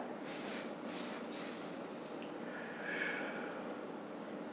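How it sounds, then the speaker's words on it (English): Several quick nasal sniffs of breath in succession during a yoga breathing exercise, soft and close, followed by a longer breath, over faint room hiss with no talk. "Let's do the sniff."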